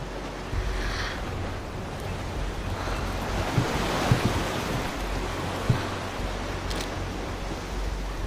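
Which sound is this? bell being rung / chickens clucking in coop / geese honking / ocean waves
ocean waves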